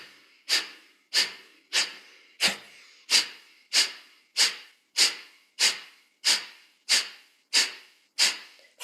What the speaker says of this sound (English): And we'll take a second set, inhaling fully, and exhale fully.